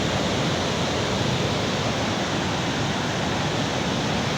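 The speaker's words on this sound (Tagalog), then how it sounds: "Kaya yung apat na rubber gates na nakadapa, yan po ang overflow." Water pours steadily over the four lowered rubber gates of Bustos Dam, a constant, loud, broad rushing roar with no pauses or voices.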